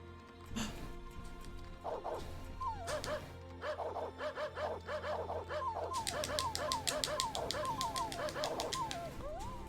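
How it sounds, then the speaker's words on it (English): A dog in the video game Star Ocean 3 barks and yips in quick repeated bursts, with whimpering and bird-like chirps mixed in, fairly close and continuing steadily throughout. "Oh, it's a dog."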